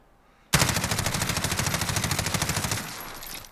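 A continuous automatic burst from an MP5K fired from the hip in Call of Duty Modern Warfare, rapid even shots for about two seconds, loud and close, then a brief tail as it stops.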